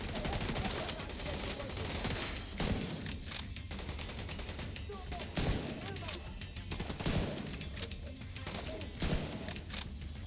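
Sniper rifle and other gunfire in The Division 2 video game during a bank headquarters firefight, a dense, continuous barrage of shots with sharp louder cracks every couple of seconds and a faint voice underneath.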